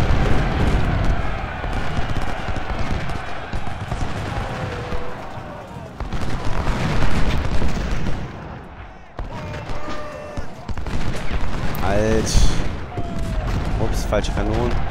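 Cannon and musket fire from the Civil War strategy game Ultimate General: Civil War, a dense, continuous battle din of booming artillery and crackling gunfire with shouts, while someone talks over it throughout.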